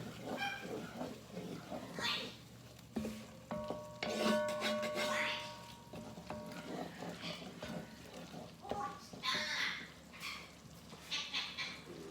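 Beef stew stirred in a cast iron dutch oven, with intermittent scraping and sloshing strokes over a low simmering bubble, moderately close and fairly quiet.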